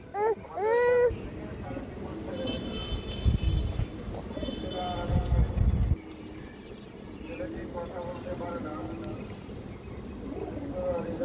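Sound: pigeon cooing

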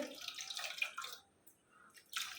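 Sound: homemade lemon cleaning liquid poured into a bottle

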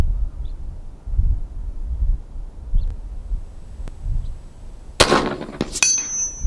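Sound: rifle shot from Epox Badger .375 caliber

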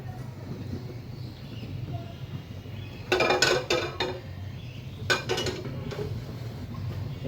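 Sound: pot on stove, oil being added

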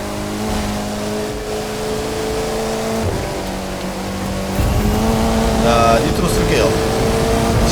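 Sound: Ferrari and Mercedes-Benz cars racing in video game The Crew 2

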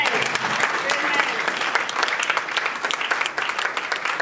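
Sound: congregation clapping hands in church

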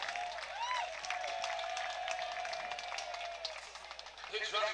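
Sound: baseball crowd applauding pinch runner

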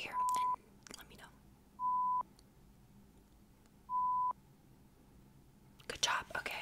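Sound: hearing test beeps played into ear

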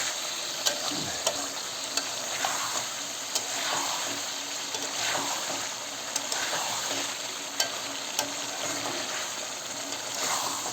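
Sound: meat being sautéed and stirred in a pan

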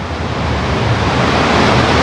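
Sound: sea waves

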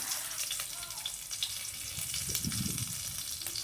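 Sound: whole spices and dry chillies crackling in hot oil

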